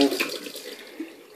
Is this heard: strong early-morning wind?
no